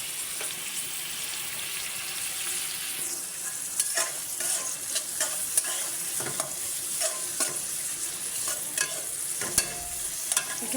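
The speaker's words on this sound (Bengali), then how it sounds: "একটু ভাজা ভাজা করে নিই" Onions sizzle steadily in hot oil in a pan for pulao while a spoon scrapes and stirs them, making scattered clicks over a continuous frying hiss. No one speaks.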